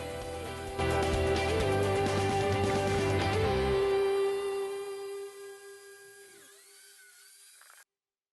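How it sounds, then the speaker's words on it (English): A small handheld biscuit jointer spins up with a loud, steady high-pitched motor whine while cutting a slot in Australian stringybark timber for a desk, then winds down and fades over several seconds. "my little biscuit jointer. It's quite a handy little machine"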